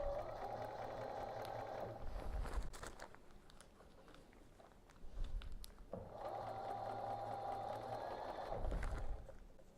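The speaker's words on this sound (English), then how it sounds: "we're going to start sewing, and I'm going to pull the pins down as I go, and I'm sewing on my line" A sewing machine runs in two long bursts of steady mechanical whirring while stitching quilt pieces for a leaf-pattern quilt, with short pauses and soft handling thumps between the runs.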